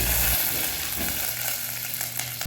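Mustard seeds, cumin, fenugreek, hand-torn dried chillies and curry leaves sizzle and pop in hot oil while tempering a Kerala ash gourd (kumbalanga) curry: a loud, steady, close crackle that fills the whole stretch with no one talking.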